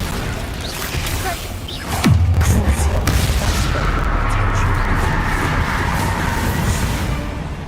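The Bombarda spell in Hogwarts Legacy goes off as a loud, deep explosion with a falling whoosh, followed by a sustained rumbling roar amid ongoing combat noise.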